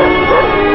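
A police sniffer dog gives a short, close bark or yip, a single brief burst of sound.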